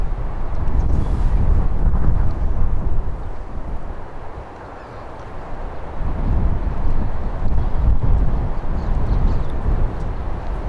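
Wind gusting across an outdoor disc golf course in Tokyo, a loud, steady rumbling roar that buffets the microphone, dipping briefly in the middle before rising again, with no voices.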